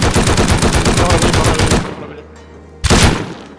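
Sustained automatic weapon fire in the survival game Rust, a loud rapid stream of shots that cuts off, leaves a brief low rumbling lull, then resumes with another short close burst.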